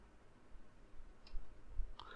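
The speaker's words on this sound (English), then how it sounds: "click over there and click on Google accounts" A computer mouse clicks a few times, faint and close, with two light clicks near the end against a quiet room background and no talk.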